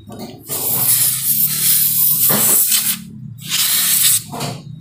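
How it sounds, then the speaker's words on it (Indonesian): Aerosol spray can blasting cleaner onto the distributor points of a Suzuki Jimny Katana, heard as two loud, close hissing bursts, a long one followed by a shorter one after a brief pause. "Ntar kita semprot terus kita pasang kasih oli."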